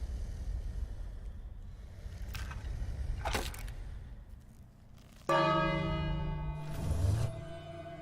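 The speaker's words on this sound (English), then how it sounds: "Then I ring the bell." A bell rung in the King's Quest video game strikes once with a loud, sustained ringing tone that lingers for several seconds over windy, sea-like ambience, following a few softer scrapes.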